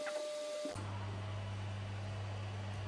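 A KINGROON KP3S 3D printer starts printing: after a brief quiet moment, a steady low motor hum with a faint whirring layer sets in and runs evenly and close by to the end.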